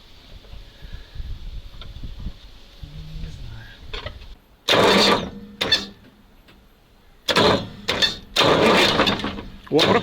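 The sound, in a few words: homemade V8 turbo engine cranking on starter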